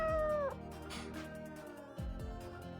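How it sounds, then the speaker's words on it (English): Cat sound effect from the Choices: Stories You Play game, a single short meow at the start followed by soft background music. "From her perch on the windowsill, Gus meows her agreement"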